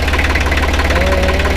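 Loud and close, the three-cylinder diesel of a 1965 Deutz D40 tractor with a Bosch injection pump ticks over at idle, a steady rhythmic low knock with no voices.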